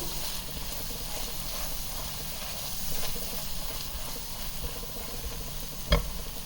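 Green chillies, slit in half, frying in a pan with turmeric and Kashmiri chilli powder for Mughal chicken: a steady, moderate sizzle throughout with a brief sharp clink near the end.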